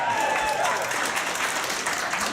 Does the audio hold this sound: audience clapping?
yes